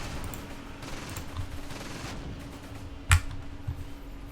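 Gunfire in the Close Combat war game set at Caen, a faint crackling fusillade under ambient noise with one sharp loud shot near the end.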